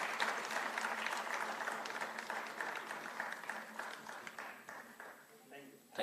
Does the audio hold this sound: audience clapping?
yes